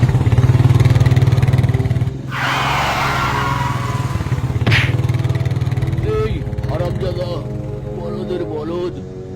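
A motorcycle engine running loud and close, a steady drone with shifting revs over several seconds, while people talk excitedly over it.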